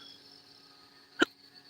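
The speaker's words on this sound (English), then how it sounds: "Man, I got these hiccups bad." A single sharp hiccup from a man rises abruptly out of quiet room tone near the end, brief and close, with a faint steady hum behind it.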